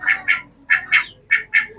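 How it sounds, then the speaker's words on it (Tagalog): Close domestic ducks quack in three quick pairs of harsh, nasal calls separated by short pauses, with no other sounds around them. "Meron po tayong pato at itik."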